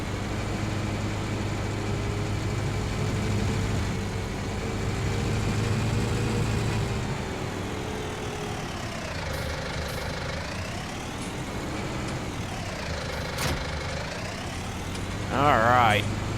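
Claas Arion 460 tractor engine in Farming Simulator 19, a steady droning idle and run with rising and falling revs, continuous and fairly loud under someone talking.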